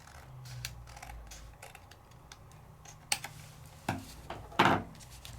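Scissors cut through card stock while a card mat is trimmed, giving several crisp snips and clicks. A couple of louder, sharper cuts come near the end, with no talking.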